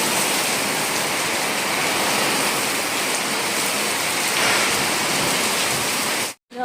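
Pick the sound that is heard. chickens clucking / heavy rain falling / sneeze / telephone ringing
heavy rain falling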